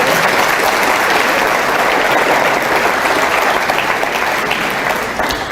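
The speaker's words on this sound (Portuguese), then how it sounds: "Você pode aplaudir esse Deus maravilhoso?" A church congregation breaking into loud, sustained applause, a dense, even roar of many clapping hands that holds steady throughout with no talk over it.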